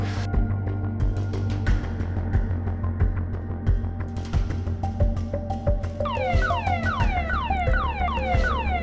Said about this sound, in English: An alarm went off at the desk to inform coordinators that an emergency beacon had been activated